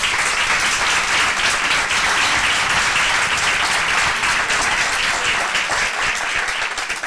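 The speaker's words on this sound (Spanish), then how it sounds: "Por favor, un aplauso para ellos." A crowd applauds steadily for several seconds, dense and sustained clapping that fills the room before tapering slightly at the end.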